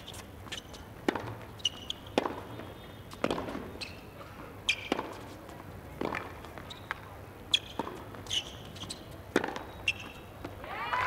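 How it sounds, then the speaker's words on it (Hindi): A tennis match at the Federation Cup: repeated sharp ball strikes and bounces, including forehand shots, ringing out at a moderate distance in an open court with a light background murmur. "beautiful forehand shot"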